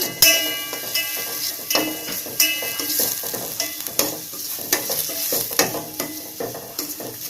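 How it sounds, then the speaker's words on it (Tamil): A spoon scrapes and clanks repeatedly against a pan as green chillies are stirred for egg biryani, with a constant sizzle of frying underneath. "பச்சை மிளகாய் இதை நல்லா மிக்ஸ் பண்ணிடுங்க"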